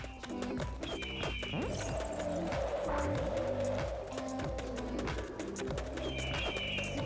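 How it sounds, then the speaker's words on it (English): Birds in the video game Oni cooing in soft repeated pigeon-like calls, with clip-clop footsteps and busy game effects layered beneath at moderate volume. "Oh my gosh! These freaking birds!"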